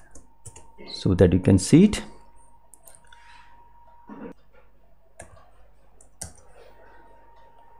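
A formula is entered on a computer keyboard: a person speaks briefly first, then a few sparse, isolated key clicks follow, close and quiet.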